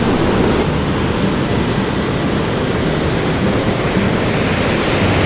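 Sneaker waves surge on an ocean shore in a dense, steady roar of surf mixed with wind buffeting the microphone, loud and unbroken.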